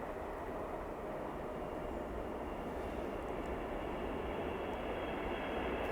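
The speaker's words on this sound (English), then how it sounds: "I can't hear what you're saying because of the train." Passing train heard as a steady, broad low rumble that fills the background evenly and builds slightly toward the end, with no talk over it.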